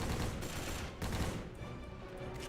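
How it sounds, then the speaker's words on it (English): Sniper rifle fire in the video game The History Channel: Battle For The Pacific, with a few loud, booming shots close by over a rough battlefield background. "3 snipers huddled together on a hill, sniping into a trench."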